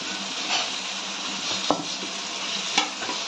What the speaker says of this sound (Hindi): अब इसको अच्छी तरह से हम चला देंगे, मिक्स कर देंगे